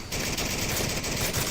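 Rapid pistol fire in the VR shooter Onward during a competitive championship match, loud dense cracks in quick succession filling the short stretch, no voices over it.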